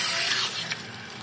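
Tepid water from a salon sprayer rinsing hair at the nape, a steady close hiss of running water that softens slightly partway through.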